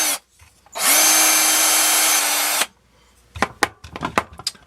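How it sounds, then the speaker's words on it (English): A power drill bores straight through a Tamiya RC car front suspension part in one loud, sustained burst of nearly two seconds, followed by short clicks and handling knocks. "So we'll just run the drill straight through here."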